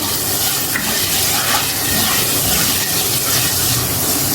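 Macaroni sauce cooked on a low flame for fifteen minutes, stirred in a pan with a loud, dense sizzle and bubbling hiss that carries on steadily throughout, no voices.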